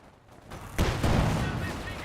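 Gunfire and explosions in Company of Heroes 2 during a battle with Panzer grenadiers, with a sudden loud boom followed by a dense, sustained rumble of shots and blasts.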